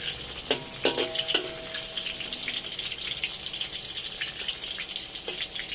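Garlic fries in a pan of oil for sambal lalapan, a soft continuous sizzle with a few sharp crackles and pops near the start, then a low, even hiss. Nobody speaks.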